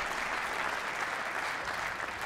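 Squash audience applauding steadily after a long rally in a professional match at the Australian Open, dense clapping sustained throughout with no voices over it.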